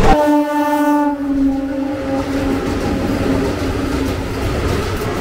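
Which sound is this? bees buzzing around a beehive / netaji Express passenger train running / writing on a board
netaji Express passenger train running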